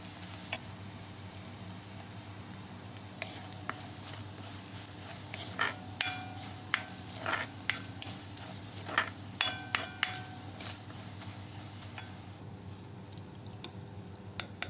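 Chili powder, meat masala and pepper powder roast in a pan for a beef roast, a soft steady sizzle broken by scattered clicks and scrapes of a spoon against the metal.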